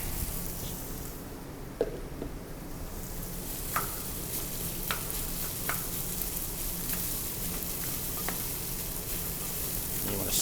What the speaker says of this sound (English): You want to stir it around and get all the little risotto kernels coated in the oil, the butter.